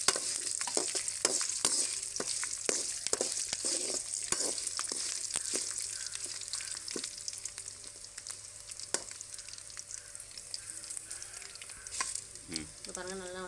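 Garlic and chillies sizzle steadily in hot oil in a pan, a dense, continuous frying hiss broken by occasional spatters and the clink of a stirring spoon, close and without voices.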